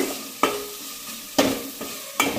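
A spoon stirs rasam masala in a metal pot, scraping the bottom in three or four distinct strokes spaced about a second apart, close and moderately loud, with no voices.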